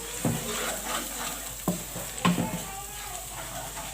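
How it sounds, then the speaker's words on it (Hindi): Spice masala for a fish curry fries in a pan, a soft steady sizzle with a few distinct scraping stirs spaced through it, close and fairly quiet with no talking. "ये सब तमाम मसाले शामिल करने के बाद हम मसाले को अच्छी तरीके से भूनेंगे"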